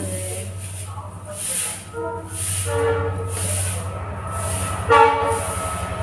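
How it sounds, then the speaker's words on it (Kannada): A train rumbles steadily nearby with a low, constant drone, and its horn sounds in several loud blasts spread across the clip. "ಅತ್ತೊಂದು ಟ್ರೈನ್ ಬಂತು"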